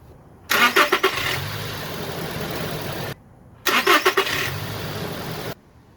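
A 2017 Toyota Tacoma engine cranks and catches twice after a battery replacement, each start a stuttering churn settling into a steady idle before cutting off, close and clear.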